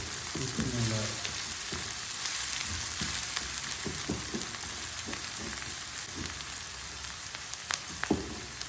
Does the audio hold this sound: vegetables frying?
yes